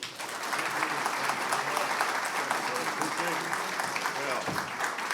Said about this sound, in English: Let's get it started by giving a warm round of applause for Commissioner Andy Gipson.